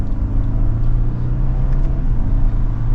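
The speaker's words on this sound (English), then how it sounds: "we'll do another mild acceleration." Steady low engine rumble and road noise from a 2023 BMW X3 sDrive30i SUV under mild acceleration in sport mode, a continuous close-up cabin drone with no talk.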